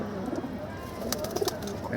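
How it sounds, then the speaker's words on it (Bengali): Pigeons feeding at night in a dimly lit loft coo softly in low, rolling phrases, with scattered pecking clicks and rustles close by. "কবুতরগুলো খাবার টাবার খায়"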